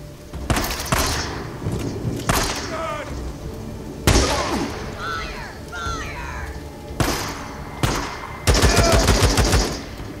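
Gunfire in Days Gone: bursts of rapid shots and sharp single cracks come in clusters with short gaps, loud and close, while someone talks excitedly between and over them.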